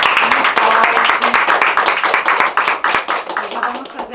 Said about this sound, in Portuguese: Vamos aplaudir ao Senhor. Muito forte.